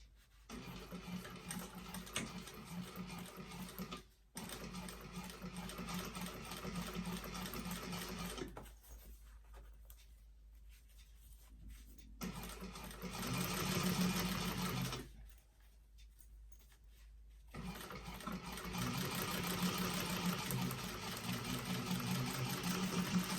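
A sewing machine runs top stitching on a vintage expandable tote bag, whirring steadily and loudly up close over several long runs broken by short pauses.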